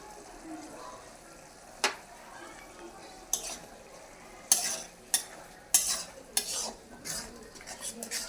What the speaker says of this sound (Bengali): এটা দিয়ে ভালো করে আবার খুব সুন্দর করে নাড়াচাড়া করে নেব